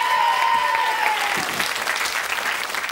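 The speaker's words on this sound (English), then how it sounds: "And another round of applause, please." A television game show studio audience breaks into steady, full applause, a dense continuous clapping that carries throughout at even loudness.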